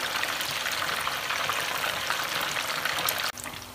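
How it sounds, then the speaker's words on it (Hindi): Fish fries on its second side over medium heat, a dense, steady crackling sizzle that stays loud and even throughout, then drops in level briefly near the end before resuming. "इसी तरह तकरीबन 2 से 3 मिनट हम इसे दूसरी साइड से फ्राई करेंगे"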